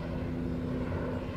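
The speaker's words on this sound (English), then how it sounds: "Pardon the noise, it's a helicopter flying overhead." A helicopter passes over a Los Angeles street, a continuous low engine and rotor drone with a steady hum, loud and even throughout, with no voices.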